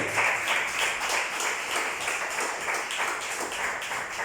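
A church congregation claps during a pastor's sermon, a steady wash of many hands heard close and moderately loud, with no talking over it.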